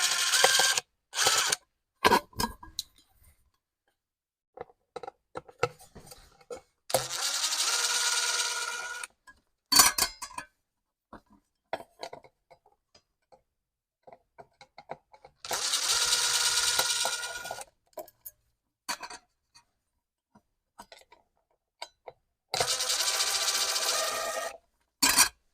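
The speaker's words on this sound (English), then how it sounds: "we're going to remove this LED array. It's got 4 tiny screws." Four tiny screws being removed from an outdoor dusk-to-dawn LED light array, with several short bursts of rasping, ratcheting turning separated by small clicks and quiet gaps, close up.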